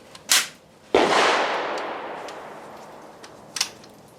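A single loud rifle shot from a Cetme L firing Tula steel-case ammunition cracks close by and rings out in a long decaying echo, with a couple of faint sharp clicks before and after.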